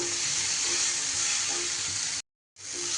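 Salted green capsicum frying in a pan, a steady close hiss of sizzling oil with light stirring scrapes, broken by a brief silent gap near the end before the sizzle resumes.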